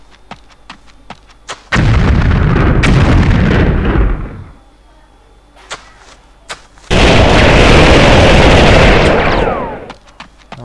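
A fortress energy generator on a desert map in a video game blows up in two long, loud, rumbling blasts, separated by a quieter stretch of scattered crackles and pops.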